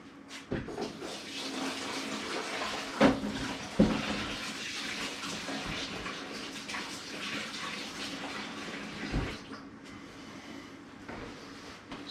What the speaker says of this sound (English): just give my hands a quick wash